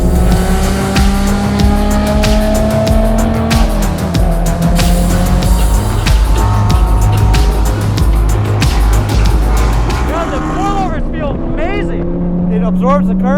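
A car on KONI GTS coilover suspension corners hard at the Road America race circuit, its engine droning loud and steady with gear changes and tire squeal throughout, a voice talking over it.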